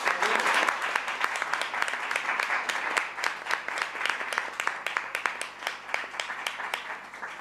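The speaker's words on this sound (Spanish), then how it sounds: "Un fuerte aplauso para las mujercitas." Audience clapping for the women at a book presentation, a dense burst of applause that thins into scattered, uneven claps over several seconds, close and fairly loud.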